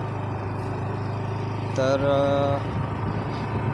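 A TVS Jupiter scooter that had been stalling, now started with the choke, idles with a steady low engine hum, a brief tonal whine rising over it partway through, and a voice speaks briefly.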